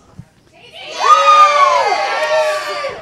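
An audience at an open stage show cheers and shouts, a loud burst of mixed voices with some high whoops that rises after a brief pause and stays sustained to the end.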